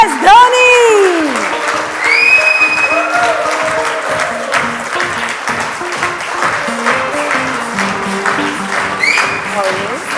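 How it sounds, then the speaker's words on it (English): A large audience applauds and cheers to welcome cricketer MS Dhoni on stage, loud sustained clapping with whistles and shouts, while music plays underneath. "please welcome him with a huge round of applause"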